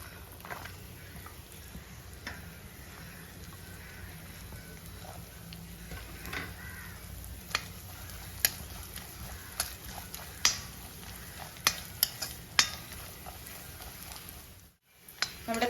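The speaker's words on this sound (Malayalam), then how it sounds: "അരിഞ്ഞു വെച്ചിരിക്കുന്ന തേങ്ങാക്കൊത്ത് വറുത്തെടുക്കാം" Chopped coconut pieces sizzle steadily in hot coconut oil and ghee, with sharp clicks and scrapes from stirring that grow more frequent toward the end.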